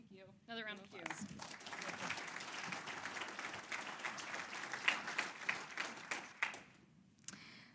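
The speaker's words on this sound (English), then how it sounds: "Another round of applause." After a short spoken phrase, an education conference audience breaks into steady applause, a broad wash of clapping with a few sharper claps standing out before it fades near the end.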